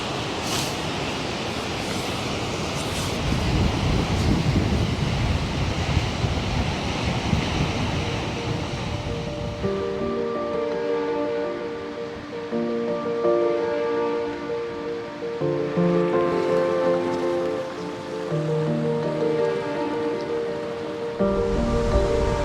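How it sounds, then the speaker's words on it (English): Strong gusty wind roaring over a rider on a Norden 901 motorcycle outdoors: loud broadband buffeting that eases midway, leaving a humming engine tone under fluctuating wind, with no speech. "Yeah, real windy today."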